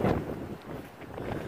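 Outdoor wind buffets the microphone in uneven, moderately loud gusts, with rumbling low noise and no speech.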